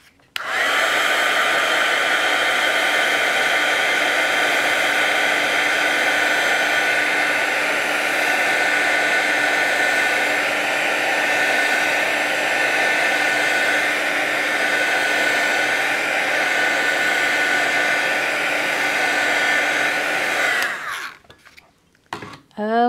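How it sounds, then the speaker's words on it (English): A handheld heat tool blows hot air onto a papercraft project, a loud steady whirring whine that holds constant for about twenty seconds and then cuts off, followed by brief handling noises. "Hit that with my heat tool."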